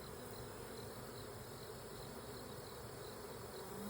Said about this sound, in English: Wow, there is lots of bees in here.